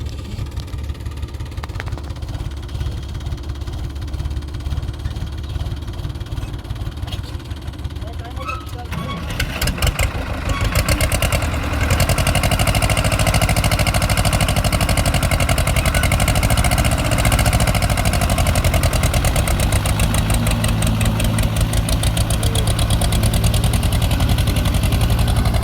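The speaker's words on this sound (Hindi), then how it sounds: "अभी मैं दिखाती हूँ ट्रैक्टर को कैसे खींचते हैं, देखो।" A tractor engine runs hard while towing another tractor stuck after a paddy harvest, a steady loud mechanical drone that rises sharply in intensity partway through and holds under occasional talk.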